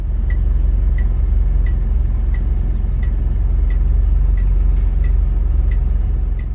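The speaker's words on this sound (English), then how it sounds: "Take a listen to the chimes when you first get in." Warning chimes inside a Peugeot 505 station wagon ring like little bells, a regular series of about ten light bright dings spaced under a second apart over a constant low hum of the car.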